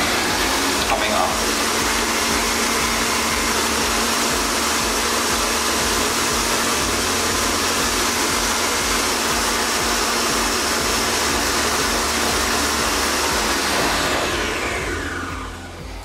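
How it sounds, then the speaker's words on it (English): An electric mixer whips butter at high speed for buttercream, a steady loud whirring hum that continues unbroken before slowing near the end. "And then 6 minutes of high-speed mixing"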